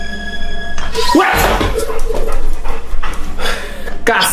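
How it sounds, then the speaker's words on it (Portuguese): Dogs pant and shuffle about in a kitchen, close and fairly loud, with a door sound partway through and voices speaking over the animals. "Só um cachorro! Ué! Outro cachorro!"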